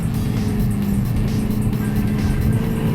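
A Mercedes-Benz AMG Black Series, either a 2012 C63 or a 2008 CLK63, drives around a race track, its engine a steady, loud, low rumble with continuous road noise throughout.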